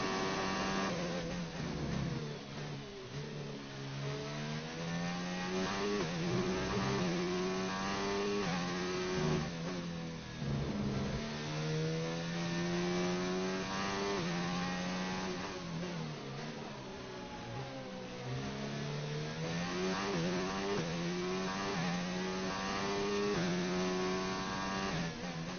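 A Formula 1 race car engine in F1 2019 screams and climbs through the revs as it powers out of a corner, a loud, continuous high-pitched whine with rising and falling pitch sweeps across gear changes.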